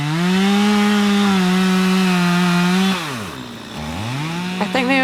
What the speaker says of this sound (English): We just got glimpses of Kyle and Simon and Tom on the chainsaws